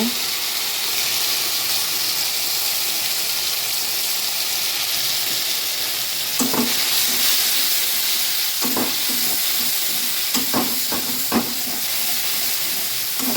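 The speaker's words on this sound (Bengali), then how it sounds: "এখন সর্ষে পোস্ত বাটা আর লঙ্কা বাটা দিয়ে দিচ্ছি তেলের মধ্যে।" Mustard-poppy seed paste and chili paste fry in hot oil for a Bengali pabda fish curry, giving a steady loud hiss and sizzle with a few short clinks and stirring scrapes later on.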